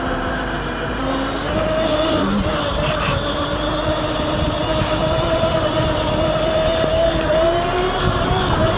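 Electric mini bike accelerating hard, its motor giving a steady, loud whine that climbs in pitch over a rumbling ride and wind noise, continuous throughout with no talking.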